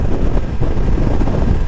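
Headwind rushing over the rider on a Yamaha Tenere 700 motorcycle with a short windshield, a loud steady low roar of wind buffeting the microphone with no talking.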